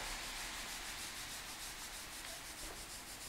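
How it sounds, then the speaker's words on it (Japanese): A corroded roof carrier on a Passat is polished with a compound sponge, giving a steady, close, continuous rubbing hiss with a slight back-and-forth rhythm, heard alone without talk. "このコンパウンドスポンジにですね、切り替えて、まあ、ザーッとですね、 全体を磨いていくという感じですね。"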